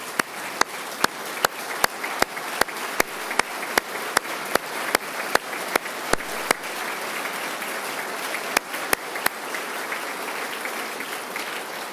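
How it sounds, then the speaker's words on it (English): Sustained applause from an audience in the gallery at a governor's State of the State address, a broad, even wash of clapping with faint sharp clicks at intervals, moderately distant. "Please also stand so we can give you a round of applause"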